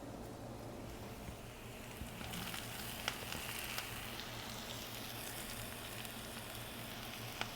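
Air-fried bitter gourd pieces tumble into a hot pan and crackle into a steady, close sizzle that carries on evenly, with a few sharp pops scattered through.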